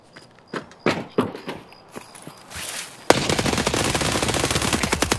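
Gunfire in a night raid: scattered sharp shots and thuds at first, then an abrupt switch to a loud, sustained rattle of rapid automatic fire that continues to the end.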